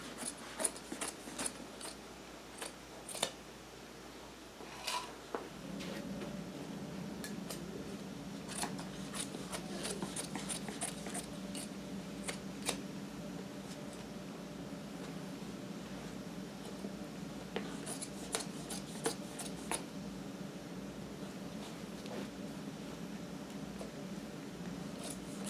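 Scissors snip off the excess upholstery fabric while a dining chair seat is reupholstered, a scattering of crisp close cuts over a steady low hum that starts partway through.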